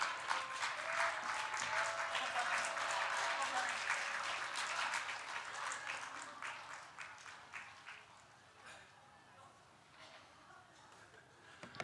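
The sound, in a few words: congregation applauding in church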